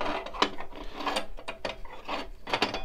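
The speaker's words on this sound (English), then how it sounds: "the top of the key should release that cam, push that cam lever up and allow the bolt to rotate back," A key turning in an old rim lock under restoration, pushing the cam lever up and letting the bolt slide back, heard as close, dry mechanical clicks and grinding scrapes in a few short bursts.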